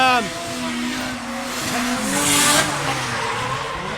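Drift cars skid with loud, sustained tire squeal and revving engines at a drifting festival in Ireland, rising and falling in pitch, with a faint voice underneath.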